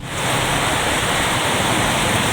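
Floodwater in a flooded Makassar neighbourhood near Losari Beach, a loud continuous rushing wash of water with no voices, filling the whole stretch at steady volume.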